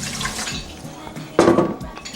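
Cold water is poured over rice for a rice cooker, a close splashing and sloshing with light clinks of a pot or cup in a home kitchen.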